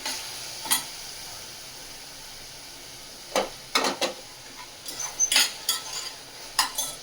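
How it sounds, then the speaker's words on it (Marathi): Onion sautés in oil with salt in a pan, a soft sizzle under scattered clinks and scrapes of a spoon against the pan, close by with no talk. "मीठ घालून थोडं कांदा तेलावर परतवला की नंतर भाजी घालूया."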